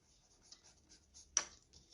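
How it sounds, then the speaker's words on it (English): Pen scratching across paper in soft, faint strokes and taps, close and quiet in an otherwise still room, with one sharper scrape near the end. "I'm going to write it down right now"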